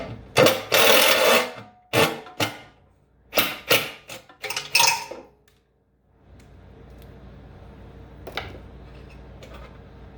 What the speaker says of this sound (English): Sorry about the noise. My impact's a little noisy.